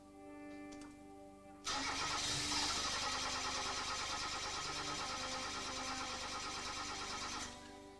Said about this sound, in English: Naturally, the engine won't start because ignition will not occur.